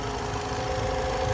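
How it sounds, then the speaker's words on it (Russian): Air conditioning compressor on a running car engine, whining loudly over the engine's idle: a steady, continuous drone with a sustained tonal whine, constant throughout with no talk. "Но компрессор кондиционеров воет со страшной силой."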